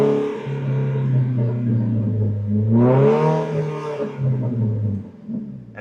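A modified car engine being revved while stationary, rising to a strong rev around the middle and holding it, then settling back to a steady smooth idle.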